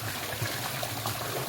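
Hot spring water at a resort in Valencia, Negros Oriental, flowing and trickling steadily with a soft, continuous wash close by, no talking over it.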